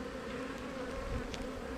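A dense mass of honeybees hums continuously around an open hive colony, a close, steady low drone with no pauses.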